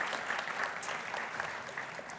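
Conference audience applauding a French geopolitics speaker at an ESSEC business school event, a dense, steady roar of many hands clapping throughout without pause.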